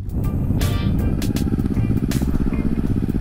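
A geared motorcycle engine idles close by with a rough, pulsing rumble, shaking as the clutch is released, joined by a few sharp clicks and knocks.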